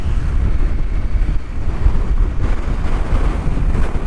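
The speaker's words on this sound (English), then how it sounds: "I don't know if you can hear me, but this hard gusts of wind" Hard outdoor wind gusts buffeting the microphone, a constant loud low rumble with surging swells and no other clear sounds.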